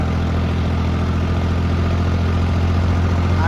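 A heavily loaded tractor engine runs slowly at low speed, making a loud, steady, deep rumble with continuous vibration and no speech.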